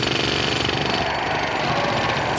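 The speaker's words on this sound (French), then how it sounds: "Le Français Lemarchand tient maintenant son marteau-piqueur." A jackhammer runs continuously at a competition, a dense rapid pounding rattle that stays loud and steady throughout with no speech.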